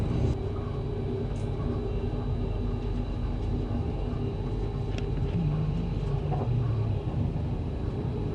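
A steady low rumble of a moving passenger train on the Manchester to Budapest route, heard from inside the carriage, with continuous rattling and faint squeaks of the wheels.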